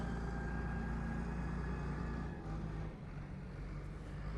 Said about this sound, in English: Right, KLM's on the roll.